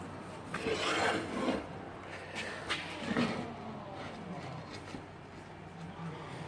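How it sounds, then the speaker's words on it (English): A hand file rasps at the holes of a vise mount for a welding table, several uneven scraping strokes close up, strongest early and then lighter. "Had to do a little bit of filing on the holes."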